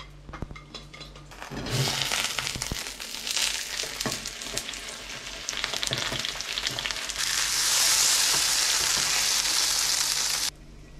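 Leftover noodles dropped into a hot pan, a loud bright sizzle bursting up with scraping stirs and clatters, the frying hiss swelling stronger near the end before cutting off.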